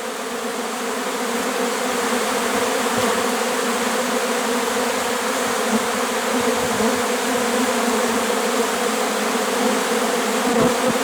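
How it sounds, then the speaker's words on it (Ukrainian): A honeybee swarm with drones settles into empty hive boxes, a dense, steady close buzz of many wings droning on without pause throughout. "Ось трутень разом із трутнями сідає рій."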